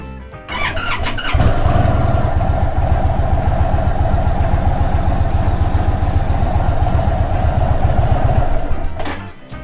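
An Indian Chief Thunderstroke motorcycle engine cranks and catches, then idles loudly and steadily with a fast, even putter for several seconds before shutting off, during an oil change.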